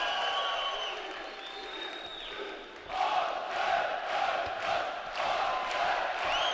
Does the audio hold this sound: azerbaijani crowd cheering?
yes